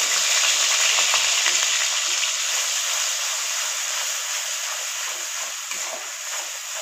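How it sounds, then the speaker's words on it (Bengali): Onion paste frying in oil with black cumin seeds gives off a loud, steady, close sizzle with a bubbling crackle that fades slightly over several seconds, with no voices. "এখানে পেঁয়াজটা কিন্তু আমি লাল লাল করে একটু ভেজে নিয়েছি।"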